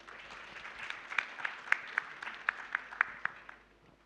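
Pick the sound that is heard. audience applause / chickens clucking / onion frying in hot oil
audience applause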